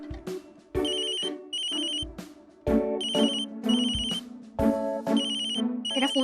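A mobile phone plays its ringtone as a looping electronic melody, loud and close, in repeated phrases with short gaps between them, with no voices heard.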